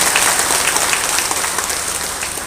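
An audience at a church celebration claps loudly and densely, a sustained wash of many hands that tapers slightly toward the end, with no voices on top.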